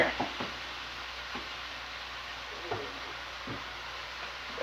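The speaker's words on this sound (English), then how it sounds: "we got the meat all cooking and it's getting there" Meat frying in a pan with a steady, even sizzle throughout, broken by a few soft stirring clicks and taps, moderately quiet and close.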